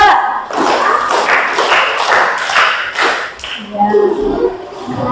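A group claps together in a classroom clapping game, giving a quick run of sharp, fairly close claps before voices start talking over a quieter room.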